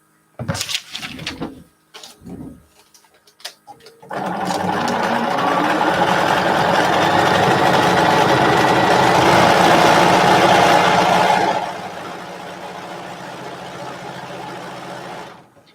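A sewing machine stitches quilt fabric. A few short stop-start bursts lead into a long, steady, loud run of whirring stitching that then drops to a quieter hum.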